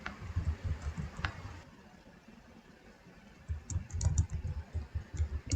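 Typing on a computer keyboard, a close patter of rapid key clicks in two bursts separated by a quieter pause, with no voices.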